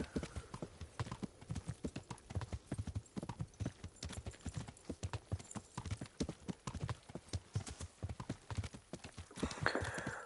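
Horse hooves clip-clopping in the medieval game Kingdom Come: Deliverance, a steady, rapid rhythm of close, crisp hoofbeats continuing throughout with no talk.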